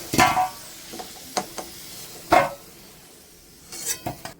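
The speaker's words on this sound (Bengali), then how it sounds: "দেখুন এখানে লাল লাল করে আলু ভাজা হয়ে গেছে। আলুগুলো আমি তুলে নিচ্ছি।" Potatoes fried red with a little turmeric are lifted out of a pan: a few sharp scrapes and clinks of a utensil against the pan over a faint background sizzle, with no talking.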